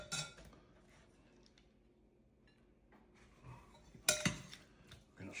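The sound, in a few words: stirring spaghetti squash with Parmesan cheese in a pan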